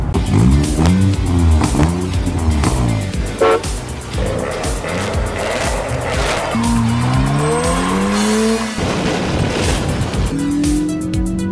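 A vehicle drives through Oklahoma City, its engine revving loudly and continuously with pitch rising and falling through the gears, plus occasional tyre noise and no talking.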